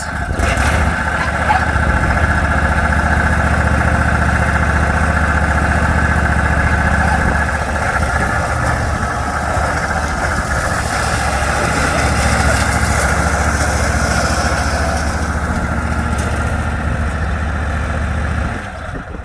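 A tractor engine idles loudly and steadily with the mowers engaged, a continuous close mechanical drone at an even pitch that eases off near the end.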